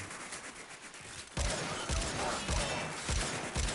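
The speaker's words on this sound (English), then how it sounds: "You can sit there and unload your Arcwing weapons into the target" Arcwing weapons firing in the space combat of Warframe, a rapid, crackling burst of repeated shots that jumps louder partway through and keeps pulsing with rhythmic thumps, with no talk.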